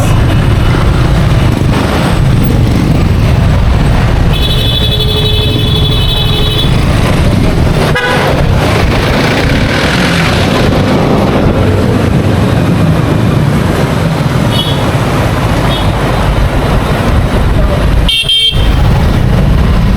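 Busy street traffic with a steady roar of passing vehicles, car horns tooting several times above the din, loud and close throughout.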